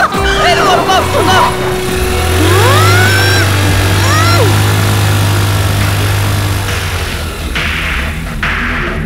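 A car engine idles and revs up close as a drunk woman drives off, and it stops partway through. Excited voices and shouting run over the engine noise the whole time.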